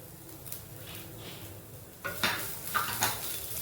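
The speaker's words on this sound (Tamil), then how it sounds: "அப்படியே அப்படியே பொறுமையாக வறுப்போம்" Rice flour being roasted in a pan, a soft low sizzle at first, then a series of scraping, clinking stirring strokes against the pan in irregular bursts, close by.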